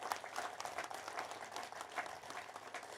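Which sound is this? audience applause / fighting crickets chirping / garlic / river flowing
audience applause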